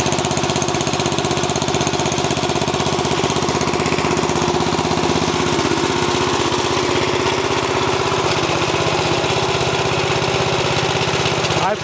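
An old tractor engine, fitted with a newer style starter, idles steadily once warmed up, a loud, close, even mechanical drone with a fast rhythmic pulse that carries on unchanged.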